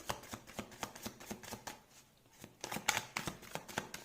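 Tarot cards are shuffled by hand in quick, steady bursts of crisp riffling and slapping, close and fairly quiet, with a short lull in the middle before the rhythm resumes.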